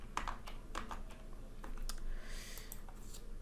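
Computer keyboard typing: scattered, close key clicks in irregular bursts, followed by a quicker run of taps, over a faint room hiss.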